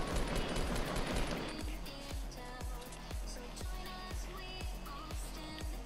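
Gunfire in Fortnite: a dense volley of shots gives way to a steady rhythm of evenly spaced single shots, fairly loud and close against a busy game background.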